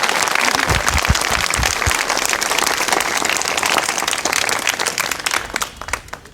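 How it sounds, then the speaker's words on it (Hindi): A live studio audience at a Hindi-language exam-update broadcast gives a thin, scattered round of applause, a steady patter of claps lasting several seconds and fading out at the end, with no talking. "बिल्कुल कमजोर ताली है"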